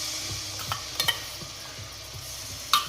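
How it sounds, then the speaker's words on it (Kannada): Ginger garlic paste sizzles in hot ghee while Hyderabad chicken masala is being cooked. A quiet, steady frying hiss runs under scattered spoon clicks and scrapes from stirring, with no talking. "ಈಗ ಇದಕ್ಕೆ ಎಣ್ಣೆ ಕಾದ್ಮೇಲೆ ಸ್ವಲ್ಪ ಶುಂಠಿ ಬೆಳ್ಳುಳ್ಳಿ ಪೇಸ್ಟು,"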